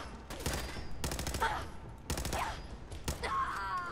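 A turret in Fallout 4 fires rapid automatic volleys in three or four distinct bursts, loud and near, with short gaps between them and faint ringing tones in the pauses.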